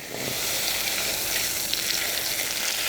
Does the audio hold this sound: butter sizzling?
yes